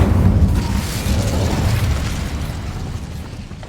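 The Bombarda blasting spell goes off in the Hogwarts Legacy video game as a loud, low booming explosion that rumbles and slowly fades over a few seconds, with no speech.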